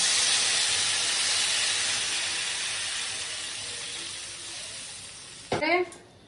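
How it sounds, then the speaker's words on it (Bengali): Potato curry boils in a pot with a steady bubbling hiss that slowly fades, and a short voice rises near the end. "তরকারিটা ফুটছে"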